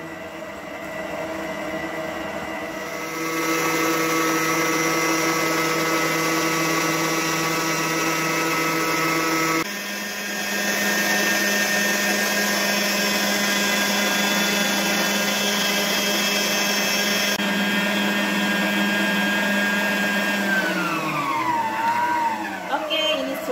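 A steady electric hand mixer whirs loudly while beating cookie batter for chocolate peanut cookies, its motor tone shifting pitch partway through and then winding down and stopping near the end.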